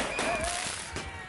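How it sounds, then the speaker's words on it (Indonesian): Firecrackers bursting in a street brawl where rioters hurl them at officers, giving a few sharp, fairly loud cracks over a noisy crowd outdoors. "Mereka nekat menyerang petugas dengan petasan sehingga membuat aparat kewalahan dan mundur"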